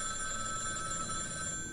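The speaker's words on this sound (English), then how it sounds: "the phone rang." A telephone rings with a steady, sustained electronic bell tone, faint and continuous under a background hiss, with no voices.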